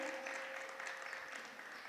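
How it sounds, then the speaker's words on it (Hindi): A seated audience at a religious discourse gathering gives a steady round of applause to welcome a guest, fairly faint and continuous until it cuts off abruptly at the end. "एक बार जोरदार ताली बजा के इनका स्वागत करें"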